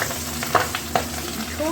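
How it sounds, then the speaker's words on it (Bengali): Pabda fish frying in hot oil in a home kitchen, with a steady close sizzle and a few sharp pops and spatters from the oil. "এবার এক এক করে সব মাছগুলো ভেজে নিই"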